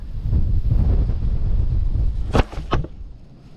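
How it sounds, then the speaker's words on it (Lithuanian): Gusty wind beside a small river buffets the microphone with a low rumbling roar, easing off near the end as a couple of sharp scrapes cut through. "Vėjukas biški kyla."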